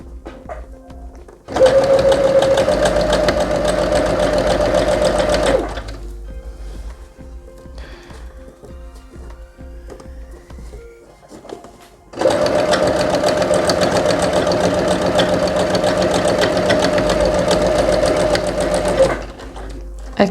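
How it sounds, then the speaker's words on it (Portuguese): A sewing machine stitches elastic for a DIY sewing machine case, running in two long steady bursts, each several seconds of close rapid needle chatter, with a quieter pause between them. "damos a volta ao pé calcador e costuramos o elástico"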